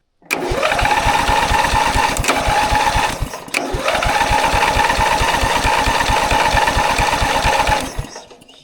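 Ride-on mower engine cranking on its starter, with the starter solenoid bypassed by pliers: a loud, rapid, even chugging rhythm for several seconds, a brief stumble partway through, then winding down to a stop.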